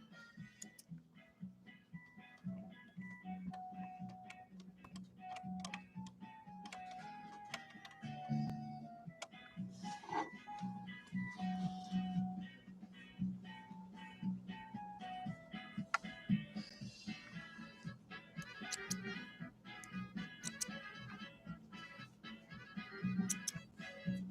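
A Husqvarna Viking 6460 sewing machine runs a lock stitch, with quick rhythmic mechanical ticking and a steady motor hum continuing throughout, close and fairly quiet.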